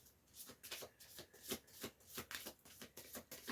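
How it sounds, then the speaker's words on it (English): Oracle cards are shuffled by hand in a quick, repeated riffling patter, soft and close, with no talking. "now I'm going to draw a few oracle cards"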